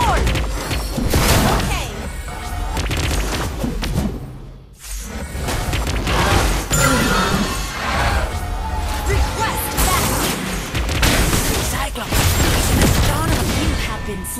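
A turret crumbles in the mobile game Mobile Legends amid loud, continuous battle noise: crashing smashes, booms and whooshes layered throughout, with a brief dip near the middle before the clamor resumes.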